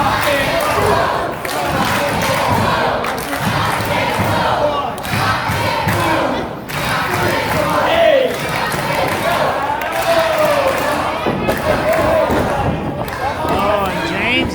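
A wrestling crowd in Rayford cheers and yells loudly and continuously at a live match, with rising and falling roars and scattered shouts filling the whole stretch.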